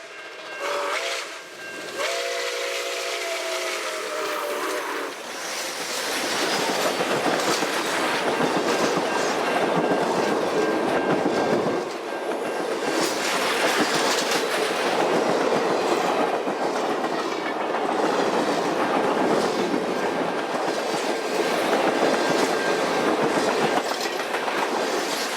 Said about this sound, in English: George Dines caught the train running fast near Milan, Michigan, next to storage tracks